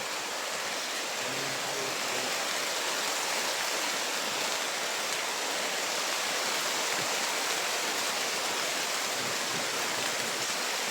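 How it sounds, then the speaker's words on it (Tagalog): Heavy rain pours down in a constant, dense wash of noise, loud and close with no breaks, a faint low murmur underneath. "Ay, lakas ang ulan dyan."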